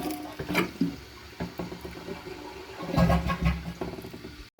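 Kohler toilet with a manual single-flush handle held down, flushing in a rushing, gurgling stream of water that swells twice, close and moderately loud, before cutting off abruptly.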